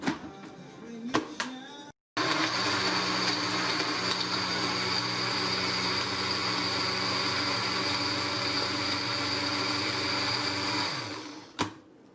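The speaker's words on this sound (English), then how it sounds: "I'm just going to put this in my blender and make it into a paste." A blender pureeing garlic, ginger and onions into a paste whirs steadily at high speed for several seconds after a brief start-up, then winds down and stops.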